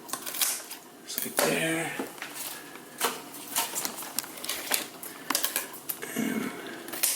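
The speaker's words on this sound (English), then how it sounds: "anywhere where it's gonna not fit, I just make sure I cut it" Snips of scissors cutting a pothos vine down to fit a pot: a few sharp, close clicks scattered among quiet handling noise, with a person talking briefly over them.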